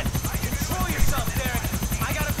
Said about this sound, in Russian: Они послали за нами вертолет.